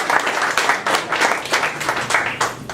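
Audience at a Merriam candidate forum gives a round of applause for the candidates, dense and lively clapping sustained throughout with no talk over it.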